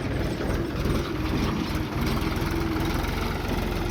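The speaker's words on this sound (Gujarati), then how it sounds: "ટ્રેક્ટર આવી ગયો, ટ્રેક્ટરથી હવે નીકળશે." A tractor engine idles steadily up close, a loud continuous low rumble with a rattling mechanical chatter running through the whole stretch, with no voices over it.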